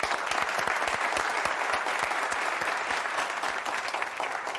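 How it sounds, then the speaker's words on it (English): Steady, full applause from the audience at a poetry gala, a dense even wash of many hands clapping without pause, heard at a moderate distance. "let's give them a big round of applause."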